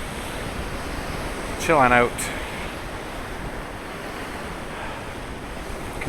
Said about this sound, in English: some nice waves